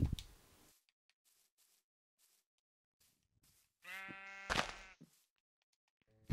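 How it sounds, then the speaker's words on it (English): A sheep in the Minecraft video game gives a short bleat, clear and fairly close, amid brief faint clicks and otherwise near silence. "Hi, sheep."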